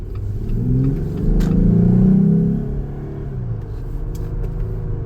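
A Jeep Rubicon engine with a K&N cold air intake revs up from near a stop at about half throttle, a throaty rising rumble that swells loud midway, then settles into a steady drone.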